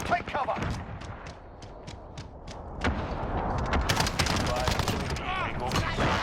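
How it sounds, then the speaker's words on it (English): Gunfire and explosive blasts from a precision airstrike in a first-person shooter game, heard as dense bursts under game voice callouts and a busy battle mix, growing louder and more crowded toward the end. "Enemy precision airstrike."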